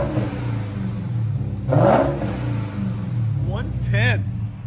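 A Dodge Charger Hellcat with its supercharged 6.2-liter Hemi V8 and aftermarket exhaust burbles in a deep, steady idle up close, broken by a few sharp throttle blips, while someone talks over it.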